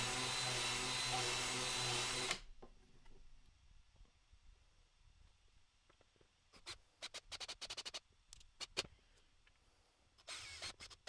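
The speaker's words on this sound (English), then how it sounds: "I want to be hiding the screws later on, so I'm just going to countersink first" A power drill countersinking screw holes in wood for a rocking chair build whines loudly and steadily for about two seconds, followed by quieter scraping, clicks and short bursts of handling noise.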